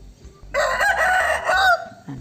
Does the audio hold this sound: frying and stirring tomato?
no